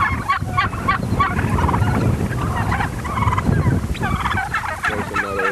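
Several turkeys, including Bourbon Reds, gobble in overlapping bursts on a turkey ranch, a busy farmyard chorus of rattling calls with constant low clucking and shuffling in the background.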